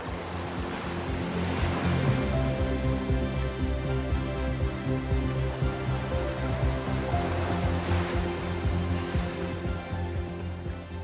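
Atlantic waves surge at the Ajuy sea caves on Fuerteventura's volcanic coast, a steady, full roar of surf with two swells building louder, and no voices.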